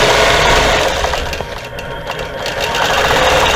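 Sewing machine quilting stitch-in-the-ditch lines on a simple squares quilt, a loud fast motor buzz with rapid needle chatter, easing slightly midway and then running steady again.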